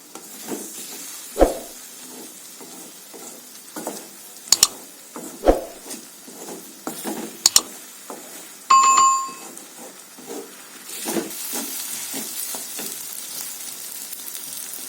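An egg fries in a pan for an egg masala fry, with a soft sizzle under scattered clicks and sharp utensil knocks, plus a brief ringing tone partway through.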